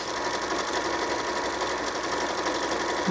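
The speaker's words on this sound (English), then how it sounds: "all we need to do is press on the pedal and it starts on its own and it keeps sewing" A Janome computerized sewing machine runs a darning stitch, giving a steady fast mechanical whirring and rapid needle chatter that continues without a break, close up and unaccompanied.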